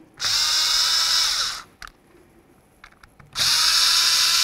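A power tool spins bolts into a steering angle sensor mount on a 2006-10 Dodge Charger, two loud sustained whirring bursts separated by a pause with small metallic clinks, close up and without talk.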